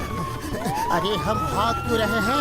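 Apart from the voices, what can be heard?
police siren in a cartoon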